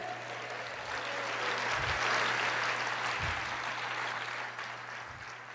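A church congregation applauds during a Pentecostal sermon: dense, steady clapping that holds fairly level for several seconds over a low electrical hum, easing slightly near the end.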